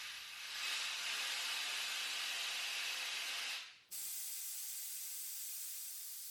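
Handy Lift Standard 1200 motorcycle lift lowering from its air foot pedal gives a loud, close hiss of escaping air for several seconds, then cuts off abruptly and leaves a fainter airy hiss afterward.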